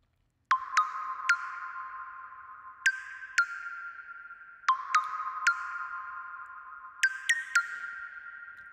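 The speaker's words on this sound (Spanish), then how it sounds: "acabamos de crear una reverb, ¿sí? Que se especifica a nuestro hardware, en este caso el Roland DEP5" Convolution reverb emulating a Roland DEP5 hardware unit applied to a mix: a series of bright pinging tones with long ringing tails, struck in groups of two or three and decaying between hits, alone without voices.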